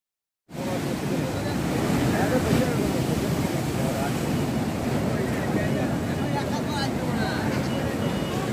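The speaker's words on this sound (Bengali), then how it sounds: "সমুদ্র নিজের আপন মনে বয়ে চলেছে, বড় বড় ঢেউ আসছে।" Sea waves roll onto the beach at Digha in a steady, continuous wash of surf, loud and close, with wind buffeting the microphone throughout.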